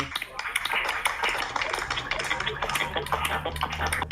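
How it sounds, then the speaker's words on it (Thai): Students in an IoT design class applaud a group, a busy, uneven rattle of clapping hands running for around four seconds before cutting off. "ขอเสียงปรบมือให้กลุ่ม 8 หน่อย"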